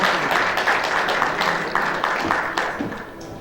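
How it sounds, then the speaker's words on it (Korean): Applause from the audience at a Korean volunteer service award ceremony, a steady moderate wash of clapping that carries on through the moment with no talk over it. "여러분 박수 부탁드리겠습니다."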